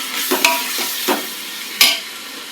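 Ginger and garlic sauté in a hot pan, with a steady soft sizzle broken by a few sharp scrapes of a spoon stirring against the metal, close and clear with no talk.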